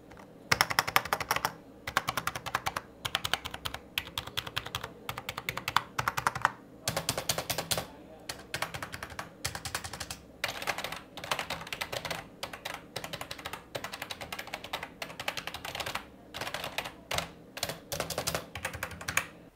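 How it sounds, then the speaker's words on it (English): Fast, continuous typing on a Redgear Blaze 3 budget gaming keyboard, a dense run of clicky keystrokes close up with brief pauses. "they are trying to mimic that mechanical keyboard experience, and here's a small little sound test for you."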